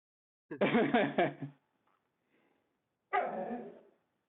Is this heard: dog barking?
yes